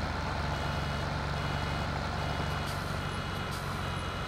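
Reversing beeps from a farm vehicle in Farming Simulator 17, a steady electronic warning tone repeating over a constant engine drone, loud and close throughout.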